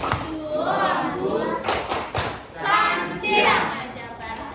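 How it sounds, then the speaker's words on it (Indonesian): A classroom group claps a rhythmic patterned cheer for a team of pupils, several bursts of hand claps with thumps, mixed with children's voices and talk throughout. "Kita kasih tepuk santiang dulu untuk kelompok Aljabar."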